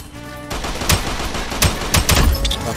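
Shotgun fire in the Roblox video game, with several sharp, loud blasts scattered over a noisy game soundtrack, a couple of them close together.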